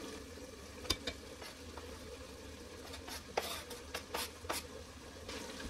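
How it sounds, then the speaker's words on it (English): Ground beef and onion sauté in an Instant Pot, a faint soft sizzle broken by occasional scrapes and clicks of a stirring utensil, with no voices. "now we're going to stir this up. And then you're going to let this saute for about 3 minutes or so until the onion gets nice and soft"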